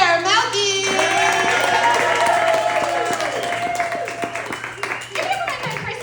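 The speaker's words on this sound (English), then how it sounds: "Start clapping right now for Claire Malkie!" An audience at a comedy show claps and cheers in a dense, sustained burst for a comedian taking the stage, with a voice talking over the applause.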